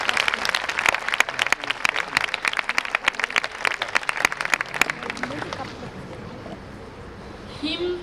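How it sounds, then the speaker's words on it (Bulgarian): Audience applause rings out after a young performers' piece at a concert, dense clapping for about five seconds, then fading into quieter room noise as a voice speaks briefly. "Вашите аплодисменти за нашите млади колеги."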